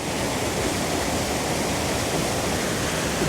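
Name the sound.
torrential waterfall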